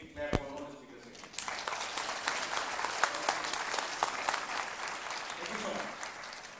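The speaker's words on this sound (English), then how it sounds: "I would like to request you to give a big clap for all the speakers here." An audience at a bamboo workshop applauds the speakers, a dense burst of clapping that rises right after a loud opening clap and holds steady to the end, with a voice faintly under it.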